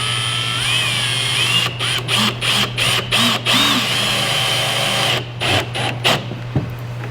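A power drill drives small screws into a salt truck part, several short whirring bursts in a row followed by a second cluster of quick pulses, close and fairly loud over a steady background hum.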